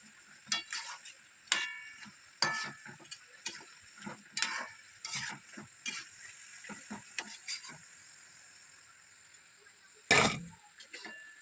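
Pitha frying in a pan for Sankranti, heard as a quiet sizzle with a run of crisp ticking and scraping taps as the pieces are turned, then one louder clatter near the end, no talking.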